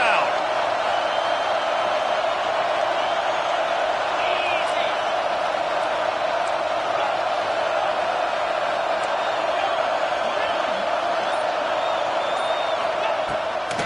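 A packed stadium crowd roars at an Ohio State football game during a third-and-goal stand, a dense, steady wall of cheering that holds loud and unbroken throughout, with occasional whoops rising above it.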